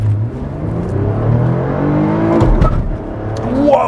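A Lotus sports car accelerates hard in first gear, its loud, close engine note rising steadily before a brief change in pitch near the end, with no talk over it.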